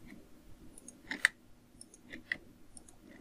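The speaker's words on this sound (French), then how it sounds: "Là je clique." Computer mouse clicking during architectural modelling in ArchiCAD: a few quiet, sharp clicks spaced about a second apart over a low background hum.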